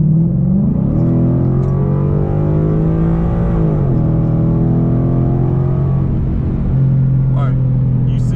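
A Ford Mustang 5.0 fitted with a Ford Performance Stage 3 kit accelerates from inside the cabin, its loud engine note climbing through rising harmonics, dipping at a shift, then droning steadily.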